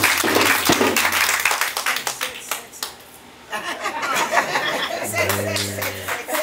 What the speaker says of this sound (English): A round of applause for this giant man.